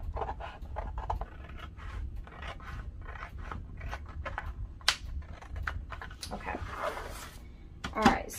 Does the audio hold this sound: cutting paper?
yes